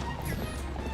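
Epona, the horse in the video game Zelda Twilight Princess HD, moves with a quick patter of soft hoofbeats, a short close clip-clop without talk.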